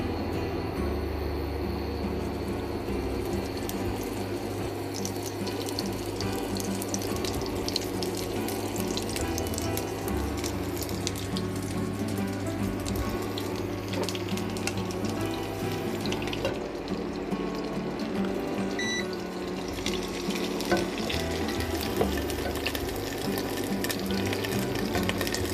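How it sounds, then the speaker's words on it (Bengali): Prawn-stuffed pointed gourds fry in hot oil, a dense, steady hiss and crackle running unbroken for the whole stretch, close by and fairly loud, with no voices. "এক পাশ ভাজা হয়ে গেলে অন্য পাশ উল্টিয়ে দেবেন, তবে তেল ছিটকাবে"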